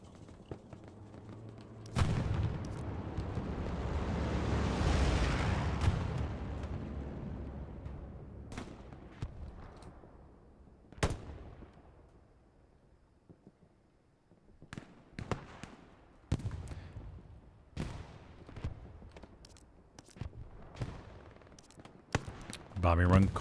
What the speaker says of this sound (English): that's a Axis bombing run going over here to the north